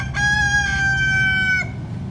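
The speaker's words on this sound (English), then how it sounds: "and of course, chickens." A rooster crows once in Oviedo, Florida, loud and close, a long drawn-out call over faint background rumble.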